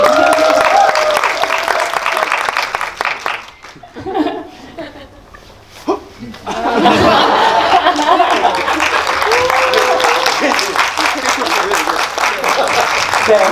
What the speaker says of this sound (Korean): 지금 박수 한번 부탁드릴게요.